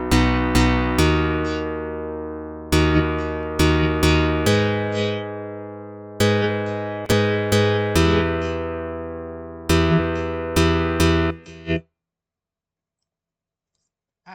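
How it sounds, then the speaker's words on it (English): A guitar organ, a keyboard voice with plucked attacks, plays a slow series of ringing chords and notes, each decaying before the next strike, close and steady, then stops abruptly into silence. "Actually, it's not just a piano organ, it's called a guitar organ."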